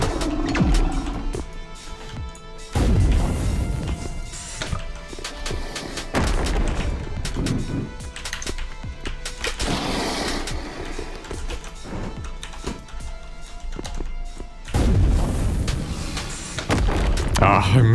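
Weapon shots hitting the ground in the video game Slingshot Protocol, a string of heavy booming impacts and crashes repeating every few seconds, loud and close, with someone talking over them.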